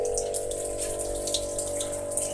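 Water jets spraying from a water-fed window scraper, a continuous close hiss of rushing water with a steady pump-like tone underneath.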